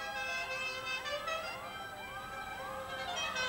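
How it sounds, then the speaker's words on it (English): Sirens wail from a Salford taxi drivers' charity convoy heading to Southport in 1984, a steady repeating rising sweep that carries on loudly throughout. "I hope you can hear all the sounds of the horns, and the bells and the sirens."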